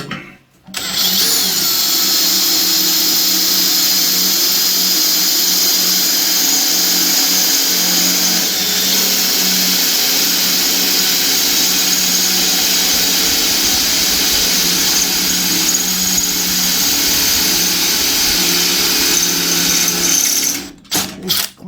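A power drill bores holes through tough metal on a bandsaw, a loud continuous high whine holding steady for about twenty seconds before cutting off, with no talking over it.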